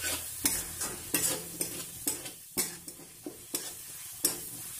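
A spoon stirs tomatoes and capsicum sizzling in paneer masala in a pan, scraping in a steady rhythm of loud, close strokes over a constant frying hiss, with no one talking.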